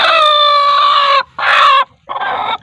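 A hen close by gives loud, harsh clucking calls in three bursts: a long drawn call, then a shorter one, then a third after a brief gap.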